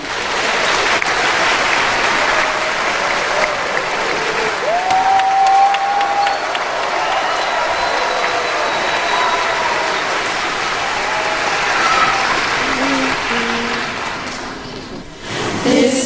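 A concert audience in Los Angeles gives a warm, sustained round of applause, a dense even wash of clapping that fades toward the end.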